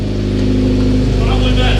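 Car engine idling after a manual transmission install, a loud steady low rumble with a constant droning hum and slight roughness toward the end, heard up close.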